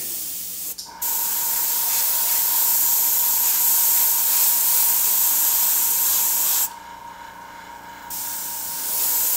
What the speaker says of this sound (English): I've got some green in my airbrush.